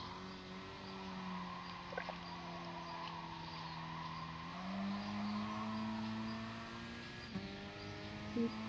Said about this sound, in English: Sound of the car is nice